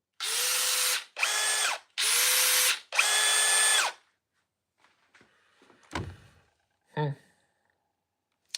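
Surge Gen 2 impact driver run in four loud bursts of about a second each, steady and close, followed by quieter handling clicks and clatter.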